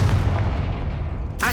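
A Confringo blasting spell cast in Hogwarts Legacy, a loud sustained booming rumble that holds steady before a brighter burst at the very end.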